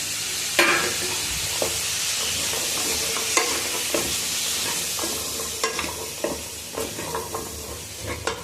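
Boiled soaked chickpeas fry in hot oil in a pan with a continuous sizzle, while a spoon stirs and scrapes with occasional sharp clinks against the metal.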